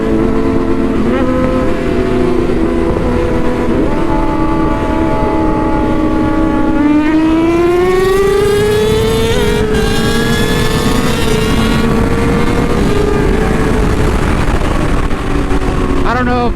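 A motorcycle races a CBR on the road, its engine revving loud and close and rising in pitch through the gears over a constant wind rush, with a rider talking over it.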